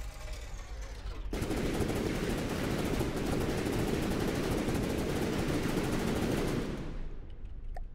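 Very fast, continuous automatic gunfire from a weapon being test-fired in From the Depths, a loud unbroken stream lasting several seconds after a quiet start, then cutting off and fading.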